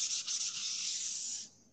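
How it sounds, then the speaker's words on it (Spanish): Sandpaper sanding a Venetian stucco wall surface, a steady close hissing rub heard alone that cuts off abruptly near the end. "el lijado que estamos haciendo no es tanto por suavidad, es para eliminar algunas partes que estén mal adheridas"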